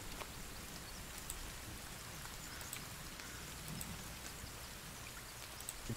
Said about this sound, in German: jetzt regnet! Regen!